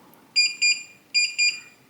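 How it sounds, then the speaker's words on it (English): Weiser SmartCode keypad deadbolt emitting two pairs of sharp electronic beeps, close and clear in a quiet room. "you're going to hear a long beep and see a green flash here"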